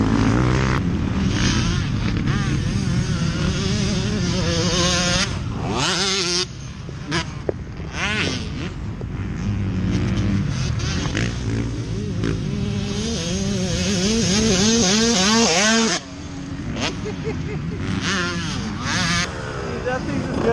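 A 1993 Honda CR 125 two-stroke motocross bike runs laps through whoops, its engine rising and falling steadily over about twenty seconds, revving hard with brief drops, under some talk.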